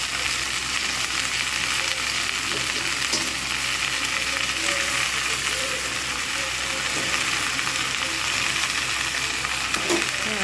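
Water spinach (kolmi shak) fries in a pan with a loud, continuous, close hiss of sizzling oil that holds steady throughout, with no voices.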